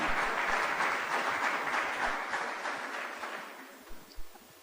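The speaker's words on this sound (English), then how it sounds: "I'm glad you are clapping" An audience claps together at an agricultural policy address, a dense sustained wash of applause that slowly thins out, with a couple of louder isolated claps near the end.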